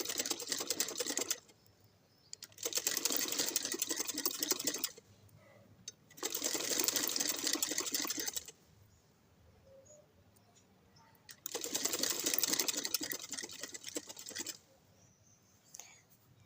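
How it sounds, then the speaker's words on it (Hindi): A sewing machine stitches over a wide fabric strip added to lengthen a sleeve, running in three or four bursts of rapid whirring separated by quiet pauses, with soft sounds of handling between runs. "मैंने आगे चौड़े वाली पट्टी रखी है तो मैं उसके ऊपर से सिलाई लगा लूँगी"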